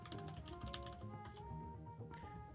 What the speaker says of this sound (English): I'm glad they're nice keyboard sounds and not bad keyboard sounds